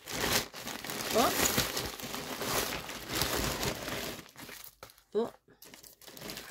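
Plastic packaging on a parcel of Chinese-bought craft items crinkles and crackles loudly as it is torn open, in a busy stretch of rustling with short pauses, while a woman makes brief exclamations.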